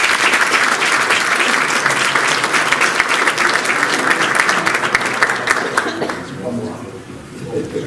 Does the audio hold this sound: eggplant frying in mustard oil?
no